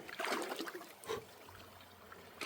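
Stream water trickling and splashing at a trail water crossing in Montana, a steady close burble with occasional louder splashes from wading.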